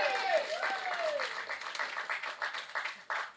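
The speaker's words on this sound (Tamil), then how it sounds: "தயவு செஞ்சு நீங்களே ஒரு தடவை கைத்தட்டிடுங்க" Audience applause fills the hall at a Tamil film music launch event, a dense wash of clapping that swells and flutters for a few seconds with some voices mixed in.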